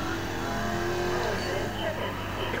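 Racing car engine from Need for Speed Most Wanted, a Bugatti Veyron Super Sport against a Pagani Huayra, droning steadily and fairly loud throughout with a faint shifting whine, while someone talks over it.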